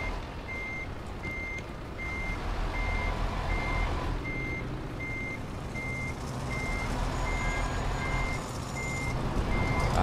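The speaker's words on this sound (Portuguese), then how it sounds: "Ó, barulho de caminhão" A truck in Euro Truck Simulator 2 gives off an evenly spaced series of about a dozen reversing beeps over a steady, moderately loud engine rumble, with no voices.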